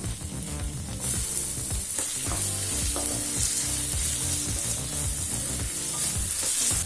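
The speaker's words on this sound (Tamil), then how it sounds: "இப்போ தக்காளி நல்லா வதங்கிடுச்சுங்க" Onion and tomato sautéing in a pan for potato kurma give a steady, close sizzle and hiss, with a tonal music bed running underneath throughout.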